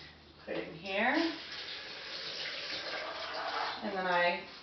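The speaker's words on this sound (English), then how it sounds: "So I take 2 cups of almonds plus 4 cups of water, put it in here," Water pours steadily into a blender holding almonds for homemade almond milk, a continuous splashing stream whose pitch rises as the jar fills, fairly close and alone.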